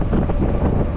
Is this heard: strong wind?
yes